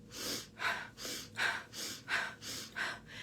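Slow, rhythmic breaths during a morning breathing exercise, about seven airy inhale-exhale pulses in steady succession, close to the microphone with no talking.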